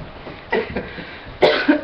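A person coughs after taking the cinnamon challenge: two close clusters of harsh, throaty coughs, each with a quick follow-up hack.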